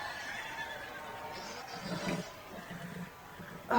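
A horse neighs during a jousting scene in a House of the Dragon episode, a faint whinny set within crowd and scene noise, partly buried in the mix.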